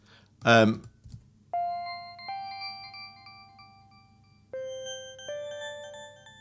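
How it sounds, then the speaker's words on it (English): A hybrid keys synth patch for atmospheric drum and bass, its simple tone doubled into chime-like harmonics: two clean sustained notes ring out, one after the other, following a short burst of talk at the start. "It's the hybrid keys."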